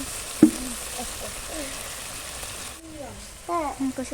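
Potatoes, egg and spices frying in a pan over a wood-fired clay stove, a steady sizzle with a sharp clatter near the start while a voice talks over it.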